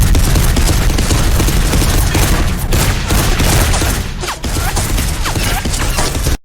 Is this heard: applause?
no